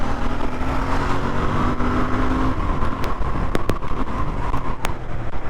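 A Royal Enfield Bear 650 motorcycle accelerating hard in third gear, a loud, steady engine drone with rising tone and heavy wind rush, heard close from the rider's position with a few sharp clicks near the end.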